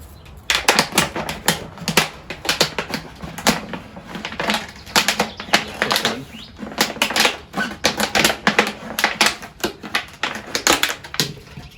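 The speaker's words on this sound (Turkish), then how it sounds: "Şöyle göz kararı keseceğim arkadaşlar." Material for a homemade fly and mosquito trap being cut by hand, a dense run of rapid crisp snips and crunches repeating close up for several seconds with no talk.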